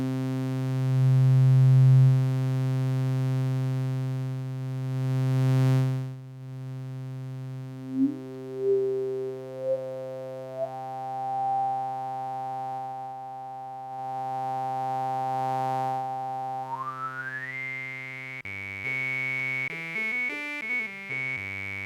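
A synthesizer tone with a resonant filter swept slowly upward: a steady buzzy drone whose sharp whistling resonance peak climbs in steps from low to high, then warbles at the top, with no other sounds.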